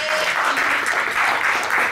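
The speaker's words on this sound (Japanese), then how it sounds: "皆さん拍手お願いします。" Steady applause from an audience at an Ice Ribbon dojo pro wrestling show, continuous and fairly close, filling the whole moment without a break.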